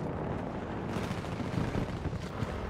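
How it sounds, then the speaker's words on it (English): Gunfire in the modern warfare shooter Battlefield 2042: a dense, rumbling barrage of shots and distant blasts, steady and fairly loud, with heavier thumps recurring through the stretch. "I was getting shot somewhere."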